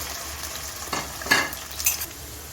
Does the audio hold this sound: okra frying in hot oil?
yes